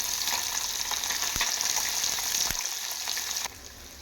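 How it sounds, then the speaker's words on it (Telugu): Small fish frying in hot oil, a close, continuous crackling sizzle with a couple of sharp pops, dropping slightly quieter toward the end; no talk. "ఆయిల్ కొంచెం హీట్ అయ్యాక ఒక్కొక్కటి దీంట్లో వేసేసుకున్నాను."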